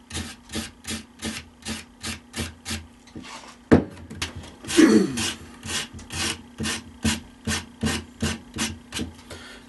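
Coarse 80 grit sandpaper scrubs a wooden tree root in steady, even back-and-forth strokes, close and fairly loud, with a brief knock and a rougher scrape partway through.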